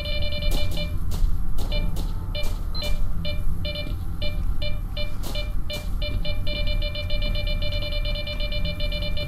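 Repeated electronic beeps in STALKER: Shadow of Chernobyl, short regular tones pulsing in bursts over a busy low game rumble, fairly loud and close throughout.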